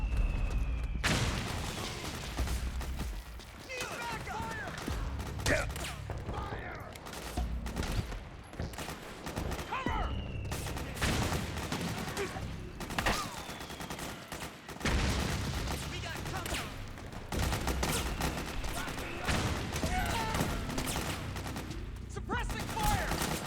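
Dense gunfire from the video game Metal Gear Solid 4: rapid bursts and volleys of shots with booming impacts, loud and continuous throughout, with voices shouting in the mix.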